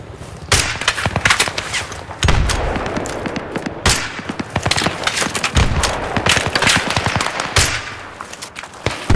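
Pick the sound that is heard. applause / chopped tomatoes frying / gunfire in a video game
gunfire in a video game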